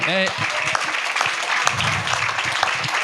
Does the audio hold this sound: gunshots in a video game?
no